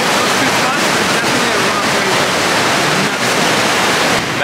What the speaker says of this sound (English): Like that spot right there where it's splashing